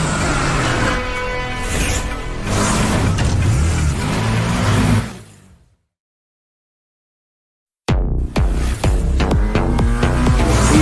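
A new TVS motorcycle engine roars with a dense, throbbing rev, cuts to about two seconds of silence, then snaps back to full loud revving.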